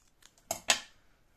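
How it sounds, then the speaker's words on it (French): Scissors snip paper scraps for a handmade Christmas card, giving two quick, crisp close-up cuts in a quiet room. "Donc, je vais couper."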